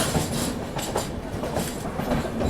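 The Udyog Nagari Express passenger train runs along the rails with a steady rumbling roar and rhythmic clickety-clack of wheels, heard from on board, continuous and moderately loud without talk.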